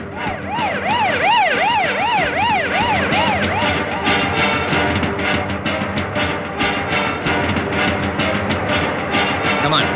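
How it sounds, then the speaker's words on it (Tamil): An ambulance siren wails loud and near in a rising-falling electronic sweep, joined by traffic noise and fast, repeated yelp-like bursts; no one speaks. "இந்த ஆம்புலன்ஸ் அடிக்கடி வருதே"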